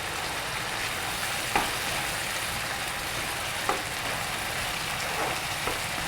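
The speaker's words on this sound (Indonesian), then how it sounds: "Kita tumis seperti biasa ya sampai harum, sampai matang supaya tidak bau langu ini bumbunya" Spice paste with bay leaves, galangal and lime leaves sautéing in oil, a steady broadband fry hiss close by, with a few faint clicks of a spatula against the pan.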